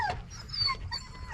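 A young puppy whimpering close by, a few thin, high, wavering whines in a brief burst over a low background rumble.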